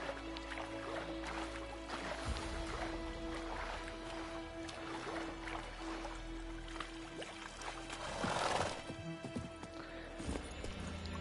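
Hoofbeats of the horse Roach being ridden at a gallop in The Witcher 3 game, a steady clip-clop rhythm under ambient game music with a louder swell near the end.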